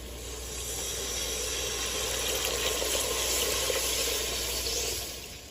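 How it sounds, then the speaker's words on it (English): Four cups of water pour into a cooking pot as a steady, close rushing splash that holds for several seconds before tapering off at the end. "we added our 4 cups of water to the pot"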